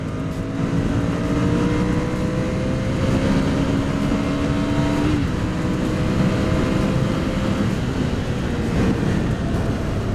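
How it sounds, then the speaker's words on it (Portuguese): A Ducati Scrambler 800 motorcycle pulls hard in third gear as the throttle opens, its engine note rising steadily and loudly over about ten seconds with no voices. "Terceira marcha, 60 por hora, abriu o acelerador"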